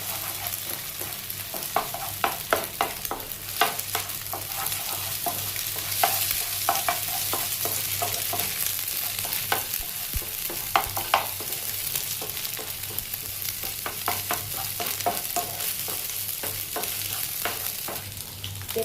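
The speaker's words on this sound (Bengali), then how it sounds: "দিয়ে দিয়েছি একটা ডিম। এবার ডিমটাকে একটু ভালো করে মিক্স করে নেবো।" An egg sizzles in a hot pan with fried green chillies while a spatula stirs and scrapes it, producing a constant close frying hiss broken by frequent rhythmic scraping clicks, with no talking.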